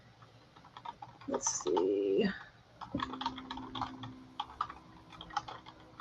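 Typing on a computer keyboard during an online user-group meeting, a steady patter of quick clicks close to the microphone, with a short spoken remark and other brief tones mixed in.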